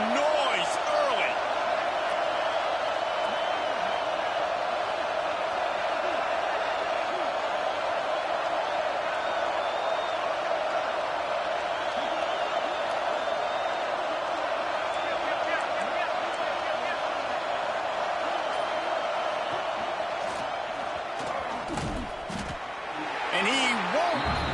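A college football video game stadium crowd roars steadily for the whole stretch, a dense sustained wash of cheering with a few sharp hits near the end.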